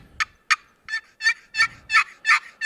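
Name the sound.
old-style hand-operated turkey call imitating turkey sounds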